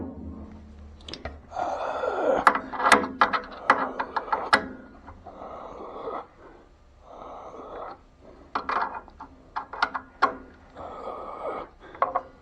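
Tightening adjustment on a Craftsman radial arm saw: a run of close scraping, rubbing and knocking bursts of metal and wood handling, coming in uneven clusters with short pauses, with no talking.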